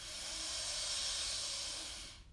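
A long, steady breath pushed out through an open mouth during a yoga relaxation exercise, a soft even hiss lasting about two seconds before trailing off.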